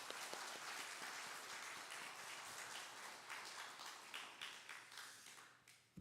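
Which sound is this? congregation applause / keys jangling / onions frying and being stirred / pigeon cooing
congregation applause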